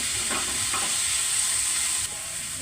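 Tomatoes and onion sizzle and fry in a pan with scrambled eggs, a steady close hiss with a few soft stirring scrapes early on, with no talk.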